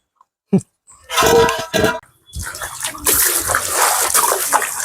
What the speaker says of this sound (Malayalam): കപ്പ കഴുകിയെടുക്കണ്ടേ, വേറെ പാത്രത്തിലേക്ക് വെക്ക.